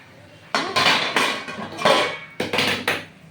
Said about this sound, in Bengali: এবার আমি ঢাকনা খুলে দিচ্ছি